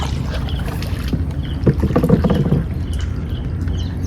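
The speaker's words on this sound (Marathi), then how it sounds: "बघ कसा पप्पा होडी वल्ला" Water splashes and knocks as oars dip and pull through creek water at Waghivali in a few uneven strokes, close by, over a steady low outdoor rumble.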